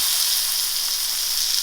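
Food frying in a pan, skin side crisping, makes a steady, even sizzle up close, constant and unbroken with no voices.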